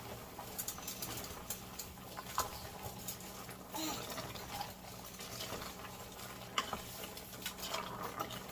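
A wooden spoon or utensil stirring a beef tripe stew with bay leaf in a pot, giving soft, irregular wet scraping and patter sounds, close and fairly quiet, with no voices.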